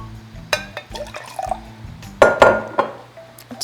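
Warm water poured and mixed into injera batter at home, heard as splashy pours and liquid sloshing with glassy knocks and clinks, in short bursts separated by quiet moments.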